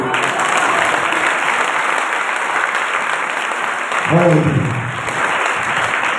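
Church congregation applauding loudly for Jesus during a sermon, steady dense clapping throughout with a brief swell of crowd voices near the end.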